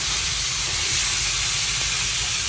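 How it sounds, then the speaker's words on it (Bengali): Fish frying in a pan, a continuous loud sizzling hiss that stays steady and close throughout, with no talk over it. "মাছ ভাজা হচ্ছে"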